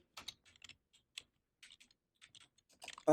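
Password keystrokes tapped on a computer keyboard during Cisco command-line setup, a sparse, irregular run of quiet clicks close to the microphone, ending in a sudden louder burst of noise.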